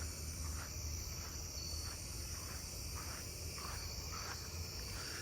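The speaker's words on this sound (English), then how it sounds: "I'm starting to hear some snowy tree crickets, which is nice." Snowy tree crickets chirp at night in a suburban neighbourhood, a steady pulsing rhythm of evenly spaced chirps over a dense, continuous insect chorus, with no voices.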